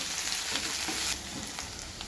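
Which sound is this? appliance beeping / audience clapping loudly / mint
mint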